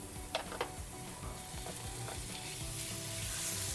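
Plenty of garlic and white onions sizzle loudly and steadily in a pan for shrimp and squid pasta. A few light clinks of a utensil come near the start.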